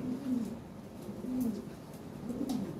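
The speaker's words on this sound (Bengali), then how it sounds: "আরও কিছু কবুতর আছে" Lahori Sherazi pigeons at a pigeon farm give soft, repeated low coos, three rounds spaced about a second apart, close by and fairly quiet.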